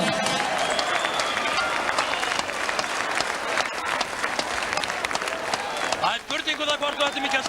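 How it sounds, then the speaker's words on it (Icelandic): A basketball cup final crowd applauds the silver medal team in a sports hall, dense continuous clapping with cheering voices and whistles filling the whole stretch, loud and steady. "ég vil biðja áhorfendur að gefa þeim gott klapp"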